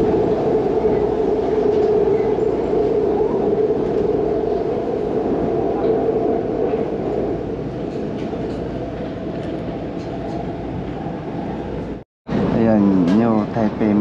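A Taipei airport-line MRT metro train rumbles steadily with a constant droning hum, cuts off abruptly near the end, and a voice then speaks briefly.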